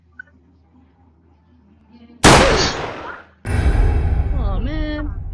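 Sharp gunfire bursts from a Roblox video game, a loud crack-and-blast followed by a sustained roar of shots with descending whistling tones, with a player talking in between.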